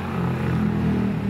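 Two loud motorcycles pass close by on a rural road, their engines making a steady low rumble for the whole moment with no talking over it.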